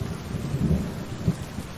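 Thunderstorm in the medieval game Kingdom Come Deliverance 2: a loud, steady low rumble of thunder over rain noise, with a deeper roll swelling midway and a short crack-like boom near the end.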